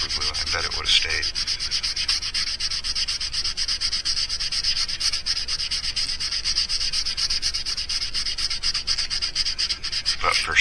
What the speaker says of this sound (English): sand it up really good